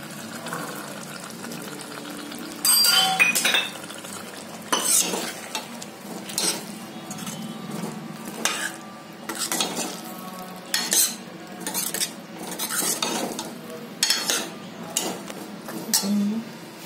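Peas and potatoes are stirred into frying masala in a pot, making repeated scraping, rustling bursts with a steady sizzle between them. The stirring is close and fairly loud, with no voices.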